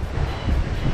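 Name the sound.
wind blowing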